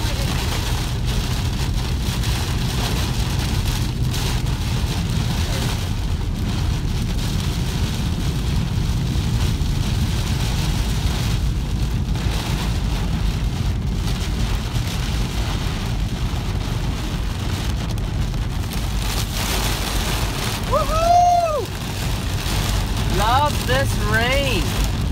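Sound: heavy rain falling

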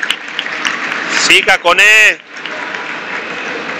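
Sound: basketball arena crowd clapping

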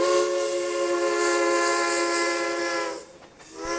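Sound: steam whistle of a Mikado steam locomotive

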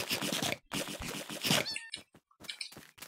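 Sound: cat meowing in video game Minecraft

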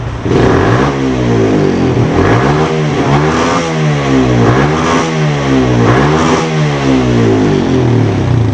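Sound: motorcycle engine revving at high rpm

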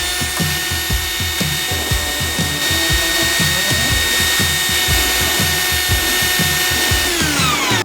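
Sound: rotary hammer drill running

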